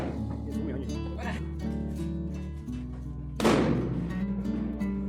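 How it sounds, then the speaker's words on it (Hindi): A Diwali firecracker goes off with a single sharp bang partway through, cutting over a steady background of music or hum at a family celebration. "फिर हम फिर से अपने पटाखे करने लग शुरू कर दिया।"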